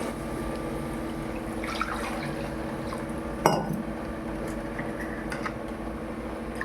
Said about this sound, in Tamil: இப்போ தண்ணி கலந்து